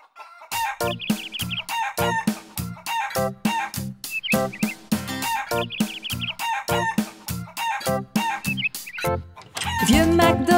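Roosters crow again and again in a lively, rhythmic, cartoon-like pattern, with clucking mixed in and busy music running underneath throughout.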